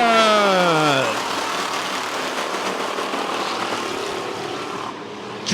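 Pure stock race cars roar off at the green flag at Midway Speedway, a dense, loud engine wash with falling pitch sweeps as cars pass close early, settling into a steady distant rumble.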